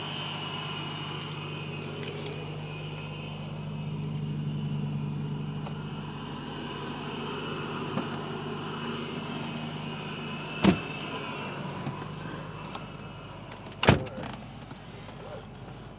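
Inside a supercharged 2005 Nissan 350Z on a road drive, a steady engine drone and road hum run throughout, with two sharp knocks near the end and no talking.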